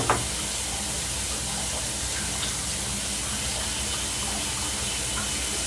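Shower water runs steadily in a bathroom as someone gets ready with a sea salt, coconut oil and aloe scrub; a continuous close hiss and splash with no talk.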